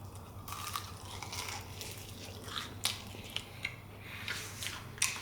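A bite into a garlic fried chicken wing gives a few sharp crunches and crinkly snaps, close up, with short irregular bursts over quiet background hum and no talking.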